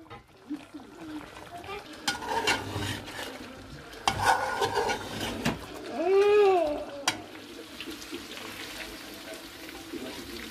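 Chicken and spices fry on a raised flame in a pan while being stirred, scraping and sizzling through a steady bed of frying noise, with a few sharper clatters and a stretch of nearby voice.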